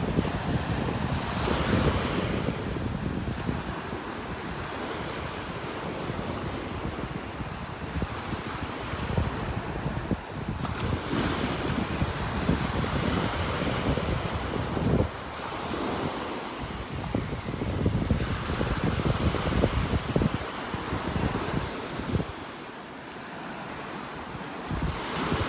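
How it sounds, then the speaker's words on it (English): Ocean waves break steadily on a calm morning beach in North Naples, Florida, the surf rolling and washing continuously under strong wind buffeting the microphone. "a few waves."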